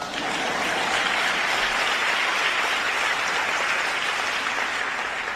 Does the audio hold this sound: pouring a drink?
no